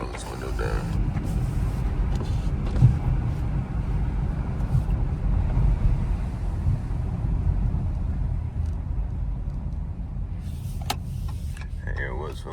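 Ford Focus cruising with a window rolled down, a loud continuous rush of wind and road noise buffeting the cabin, with a person talking over it.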